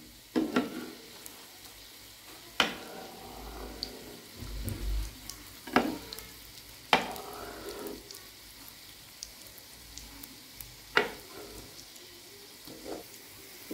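Chicken potato croquettes frying in a pan give a soft steady sizzle, with occasional sharp clinks and scrapes of a utensil against the pan, close but fairly quiet.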